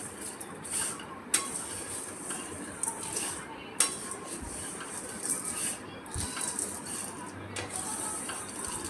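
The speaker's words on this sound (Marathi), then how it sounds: "आता मी शेवया भाजून घेत आहे।" Vermicelli being dry-roasted and stirred in a kadhai for spicy upma: steady scraping and rattling of the noodles against the metal pan, with occasional sharper clinks from the spoon, close and continuous.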